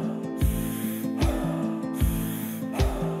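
Rapid shamanic breathing exercise breaths, sharp forceful inhales and exhales repeating in a quick steady rhythm, close and fairly loud over a sustained tonal music bed.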